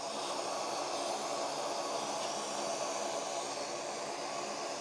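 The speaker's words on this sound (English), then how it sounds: "Now this is a low powered vacuum cleaner at the moment." A low-powered vacuum cleaner runs continuously while sucking dust from inside a Meaco dehumidifier, giving a steady, even airy hiss and whir at close range with no change in pitch.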